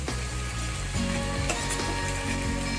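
Mushrooms and chopped spring onions stir-fry in a hot pan, a steady close sizzle with scraping stirs and soft clatter over a musical backing.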